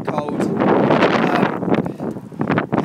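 Strong, cold wind buffets the microphone along an exposed coastal walking route, a loud continuous rushing roar with gusty swells, while a person talks faintly underneath.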